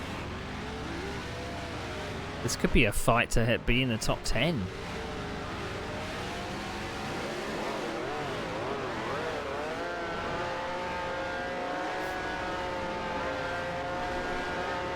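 Racing car engines in a sim racing game replay, including Ferraris, whine and rise in pitch as cars pass, a burst of loud passes early, then steady engine drone under a talking voice.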